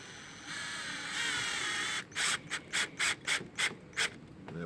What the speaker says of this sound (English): I don't have a bit brace because I'm not a real boat builder, but I have a drill